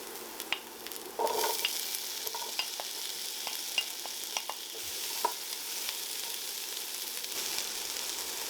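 Garlic, chilli and red pepper fry in a pan with a soft, steady sizzle, while scattered clicks and scrapes come from stirring nearby. No one speaks.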